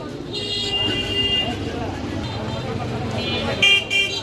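Busy entrance road traffic in Comilla, with car and bus engines rumbling and several short horn toots, a few of them close and loud, while a person talks over the street noise.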